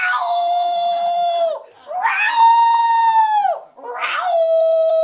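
A human voice imitates cats yowling on a summer night, giving three long, loud, wailing cries that bend downward at the end, separated by brief pauses.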